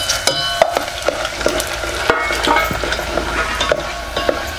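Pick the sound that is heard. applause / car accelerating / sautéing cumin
sautéing cumin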